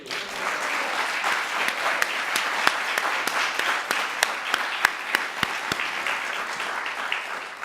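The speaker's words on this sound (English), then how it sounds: "And can we have one last round of applause for truly the star of the day, Dr. Robbie Brinton." The audience at the 2017 Melvin R. Goodes Prize ceremony gives sustained applause. The clapping is dense and continuous, with crisp individual claps popping out close by throughout, and no speech over it.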